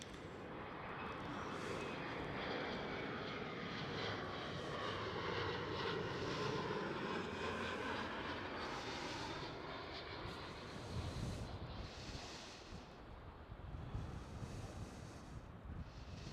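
An Air France Hop City Hopper regional airliner at Schiphol Airport, Amsterdam, gives a steady, loud, broadband jet roar that holds throughout, with wind buffeting the microphone.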